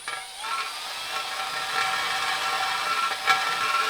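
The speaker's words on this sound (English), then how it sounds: "I'm going to take the little burr bit and make it in there" A small rotary burr bit grinds into a Chase RSP 5.0 BMX race frame, a thin high-pitched whine with shifting tones and a brief sharper bite near the end, close and continuous with no talking.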